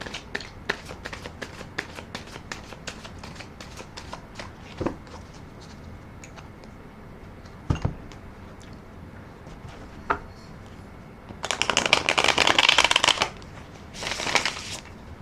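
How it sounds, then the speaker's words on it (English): Tarot cards are shuffled with soft, irregular taps and slides, then riffled twice in quick, loud fluttering bursts near the end. "I'm going to do another shuffle and rifle"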